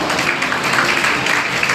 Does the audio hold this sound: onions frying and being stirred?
no